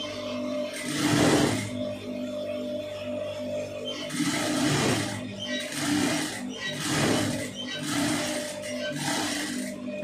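Sewing machine stitching an armhole seam on a garment, running in several separate bursts of steady, close mechanical whirring with short pauses between them.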